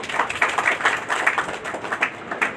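An audience at a stress-free living session claps for itself, a fairly loud run of quick, uneven hand claps that pulses throughout without fading.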